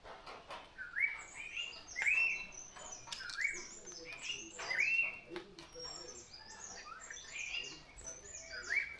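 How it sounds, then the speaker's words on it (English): Melodious whistling calls from an unidentified bird in Kudremukh forest, repeating every second or so in bright rising phrases, with other chirps and tweets scattered around in a fairly quiet morning woodland. "I spent some time listening to this melodious whistling bird, but wasn't able to identify it"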